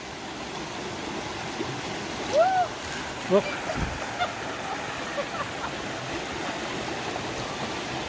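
Steady broadband rush of flowing creek water at South Zoe Creek on Hinchinbrook Island fills the clip, with a brief voice calling out and a few splashes partway through.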